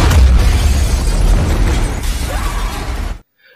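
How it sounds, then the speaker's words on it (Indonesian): A comet explodes on impact in the disaster film Greenland as a massive, sustained roaring blast with deep rumble and crackling debris, loud throughout before cutting abruptly to silence. "mereka merasakan bahwa komet itu meledak dengan luar biasa"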